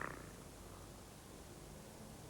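A soft, continuous purr, close and low, steady throughout with nothing else audible.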